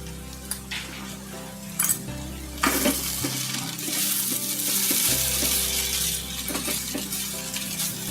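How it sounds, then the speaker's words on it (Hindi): Ginger sautéing in a pan for ginger chutney, a continuous close sizzle with occasional stirring scrapes and splashes over a tonal background. "अदरक को हम अच्छी तरह से भून लेंगे।"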